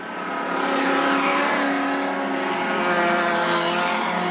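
Outlaw sedan race cars lap Macs Speedway at night in Australia, their engines holding a loud, steady, high-revving roar that swells as the pack nears and sustains without break.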